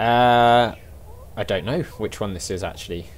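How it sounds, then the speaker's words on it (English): A loud, drawn-out meow from a cat outside a door, followed by someone talking. "Sorry about the cat in the background as well."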